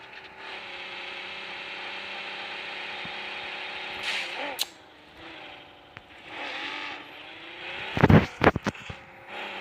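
Car engine droning steadily while driving in the battle-royale game PUBG, a sustained hum with shifting tones, a few brief bumps near the middle and a cluster of sharp impacts toward the end.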